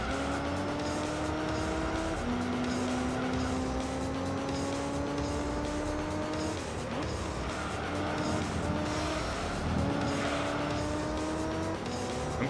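Race cars in the Gran Turismo 3 video game scream along at high revs, with sustained engine whine, rising pitch, abrupt gear shifts and overlapping cars passing, loud and continuous.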